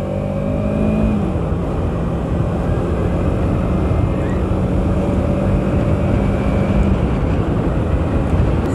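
A Kawasaki Ninja 300 parallel-twin motorcycle engine runs steadily at a smooth, loud drone with low harmonic tones, holding a consistent rumble with no talking over it.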